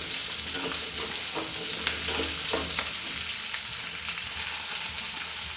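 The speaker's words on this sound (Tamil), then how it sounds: "வெங்காயம் வந்து இந்த அளவுக்கு வதங்கினா போதும்" Shallots sauté in a hot pan for idli sambar, giving a steady, close crackling sizzle with occasional utensil scrapes and stirring taps throughout.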